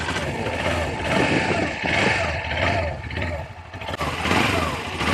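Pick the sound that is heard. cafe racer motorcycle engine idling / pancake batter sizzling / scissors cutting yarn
cafe racer motorcycle engine idling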